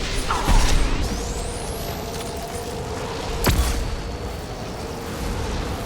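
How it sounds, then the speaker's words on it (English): Flashbang grenade detonating in the video game Mass Effect 2, one sharp bang about midway through, preceded by an earlier impact and a rising whine, set against a constant loud battle rumble. "Watch out, flashbang!"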